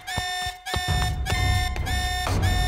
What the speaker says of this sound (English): My eyes shot open as the alert blared through the station.